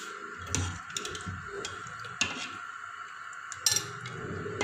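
Beef paye ladled out of a cooking pot: scattered metallic clinks and taps of a spoon against the pot and serving dish, a few sharper knocks standing out over a quiet, faintly humming kitchen.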